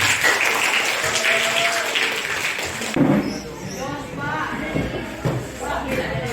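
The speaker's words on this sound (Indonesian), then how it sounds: "Tepuk tangan untuk Diki" Classroom applause for a student during an Islamic religious education lesson, a short burst of clapping from a room of pupils that fades after a few seconds as voices and classroom noise take over.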